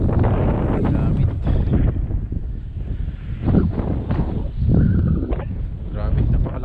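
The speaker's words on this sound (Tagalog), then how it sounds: "napakalakas ng hangin." Strong wind buffeting a microphone outdoors by the water in Agusan, a loud rumbling roar that gusts up and down throughout, with people talking in the middle of it.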